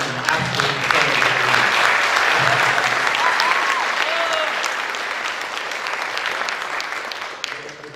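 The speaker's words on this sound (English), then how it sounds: "we got to give him a round of applause" A round of applause at a high school December signing ceremony in honor of Mr. Rincon, dense clapping from a crowd that holds steady and then slowly tapers over several seconds, with a few faint voices underneath.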